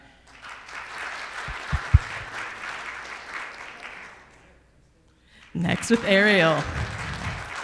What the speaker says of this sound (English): Give us your round of applause for who you think has the ugliest Christmas sweater here today at our meeting.